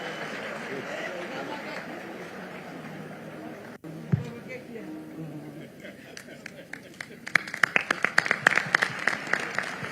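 Applause and scattered clapping from a crowd at Thika High School's 70th anniversary celebration, attended by President Ruto. Murmuring voices come first, then the claps grow sharper and denser toward the end.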